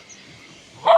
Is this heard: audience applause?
no